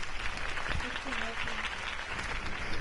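Crowd applause in a Batman video game, a dense, steady wash of clapping that fills the short moment at even loudness, with a voice speaking over it.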